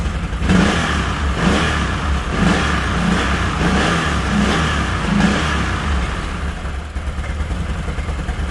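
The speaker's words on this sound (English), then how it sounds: "see what happens when I hit the gas" A Can-Am Outlander XMR 1000 ATV, fitted with a Renegade fuel pump, revs loudly and close up, holding a pulsing, throbbing engine note that sags slightly toward the end.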